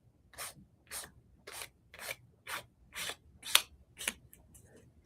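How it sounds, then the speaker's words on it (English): Ink colour is scraped onto a paper edge in about nine short, evenly spaced rasping strokes, close and crisp, each a brief scratchy swipe with quiet pauses between them and no talking. "I'm just going to scrape this on."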